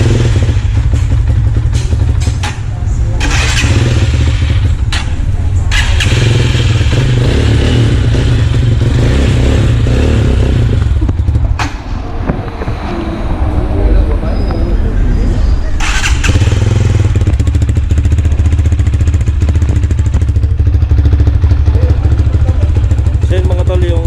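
A new Rusi Titan 250FI motorcycle with an aftermarket pipe idles and revs nearby, a loud, steady low engine rumble running throughout with a few sharper throttle blips, while a person talks over it.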